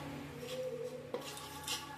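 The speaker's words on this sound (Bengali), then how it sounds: "ময়দার সঙ্গে বাটারটাকে মিশিয়ে ভাজা করে নেব।" A spoon stirring butter and flour in a pan for white sauce, with faint, close scraping and light clinks of utensil against metal in a quiet kitchen.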